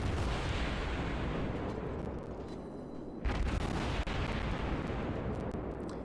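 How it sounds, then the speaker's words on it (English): A warship's gun volley in the naval battle game World of Warships comes through as loud, continuous booming and rumbling, with a sharp burst of fire a little past midway over a dense, sustained roar. "He's fired a second volley."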